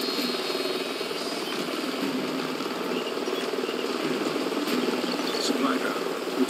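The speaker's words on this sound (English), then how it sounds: "Sounds like a chopper's up ahead of us." A helicopter in the shooter video game Call of Duty Ghosts, a continuous throbbing rotor and engine drone that holds steady and fairly loud for the whole stretch, with no talking.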